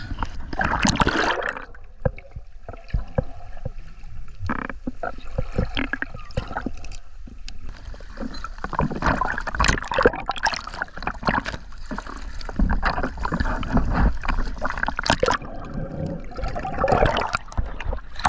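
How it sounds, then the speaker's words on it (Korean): Water sloshes and splashes irregularly around a small boat in 1–2 m sea waves off Jeju Island, with surging gurgles and bursts of turbulence that come and go. "파도가 역대급으로 너무 치고 있습니다."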